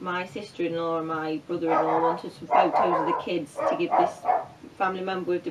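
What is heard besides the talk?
dog barking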